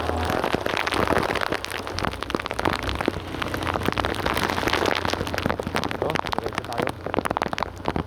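Heavy rain pours down hard and steadily in Caloocan North, a dense, loud drumming on surfaces with no break.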